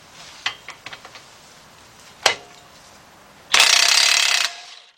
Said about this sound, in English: get your cordless impact.